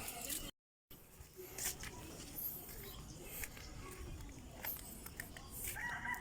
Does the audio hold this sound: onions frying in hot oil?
no